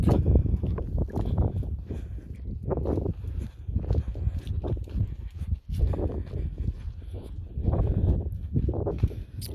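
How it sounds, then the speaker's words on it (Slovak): Outdoor wind buffets the microphone in heavy low rumbling gusts throughout, rising and falling unevenly over a walk with a dog, with faint sounds of movement underneath. "Ale zase je to dobré, že fúka."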